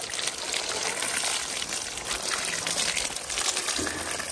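Water gushes and splashes steadily as it is poured over donkeys to cool them, a loud continuous trickling stream with no talk.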